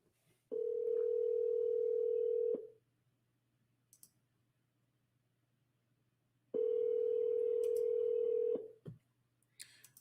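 A telephone call rings out: two steady ringback tones, each about two seconds long, are separated by a long silence, with faint clicks on the line.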